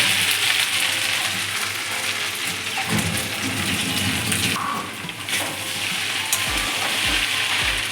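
Pasta in tomato sauce sizzles steadily in a pan while being stirred, with a few low knocks of the utensil toward the end and no voices.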